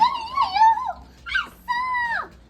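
A dog whimpers in three drawn-out, high whining cries with short pauses between them, close and fairly loud, with no talk over them.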